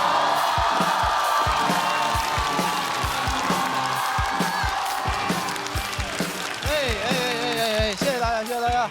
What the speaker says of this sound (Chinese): 掌声有请翟佳宁